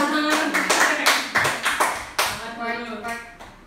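Schoolchildren in an Indonesian eighth-grade physics class clap their hands together, a quick rhythmic burst of roughly a dozen distinct claps close by, with a voice heard faintly alongside.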